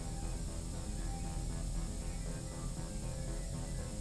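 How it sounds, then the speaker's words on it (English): A spray paint can spraying graffiti in The Warriors video game gives a continuous, even hiss that runs steadily throughout, loud and close, with no talking. "Good thing I brought some extra spray."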